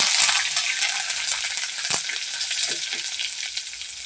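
Curry leaves sputter in hot oil in a pan for bitter gourd pickle, giving a continuous bright sizzle with scattered crackles and a sharp pop near the middle, close and alone.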